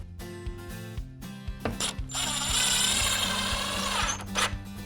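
A power drill drives a screw through a base profile into the nailing lip of a waterproof laminate wall panel, heard close up as a short burst of whirring and grinding after a few clicks and handling knocks.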